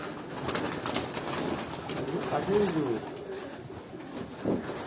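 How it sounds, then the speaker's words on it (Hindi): Kamgar breed pigeons in a rooftop loft coo low and rolling, a few close calls rising over a steady background murmur. "अब ये दोस्तों एक और कमगर कबूतर है"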